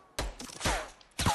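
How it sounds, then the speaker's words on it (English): Gunfire in Fortnite striking a tree, heard as three separate sharp bursts at moderate level with short gaps between them and no talk over them. "I can hear the bullets. It's like they're hitting a tree or something."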